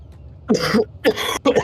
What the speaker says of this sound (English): It's just the residual cough at the end.